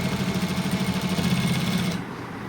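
Sewing machine running steadily as a border strip is folded by hand and stitched onto a trouser hem, a close, even mechanical whir that stops abruptly near the end.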